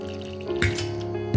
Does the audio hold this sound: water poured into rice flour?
yes